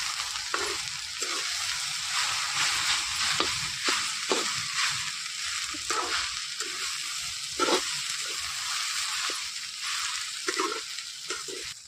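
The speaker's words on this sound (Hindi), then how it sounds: "तो करील को डाल देती हूँ और करील को भी भिंडी के साथ में तल लेती हूँ।" Karil (caper berries) and okra (bhindi) fry together in a pan with a steady, close sizzle, broken by scattered clicks and scrapes from stirring; no one speaks.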